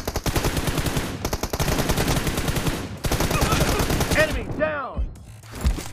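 M416 rifle fire in a PUBG match crackles in rapid automatic bursts with brief gaps, loud and close, followed by ricochet-like whines and a final shot.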